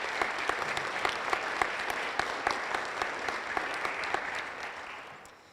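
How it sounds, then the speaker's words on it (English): Steady applause from an audience at a college honor society induction ceremony, dense and even for about five seconds before tapering off at the end. "we can all give another round of applause to Will Jones for the wonderful music"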